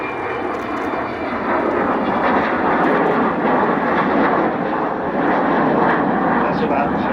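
Avro Vulcan XH558 bomber passing over at the Duxford airshow, a loud sustained roar of jet engines with broad rumbling noise that holds steady as the aircraft flies by.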